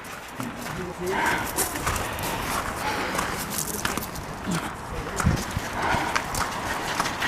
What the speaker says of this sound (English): take some footage of some of the horses parading on the stable area